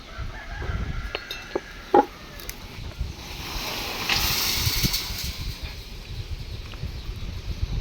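Free-range desi chickens in a fenced village farm compound cluck steadily at moderate distance, with a sharp call near the two-second mark and a rising, hissy stretch of crowing-like noise midway, under constant outdoor background.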